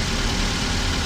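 Toyota Avanza engine idling, a steady low rumble held close and even for about a second, with no talking.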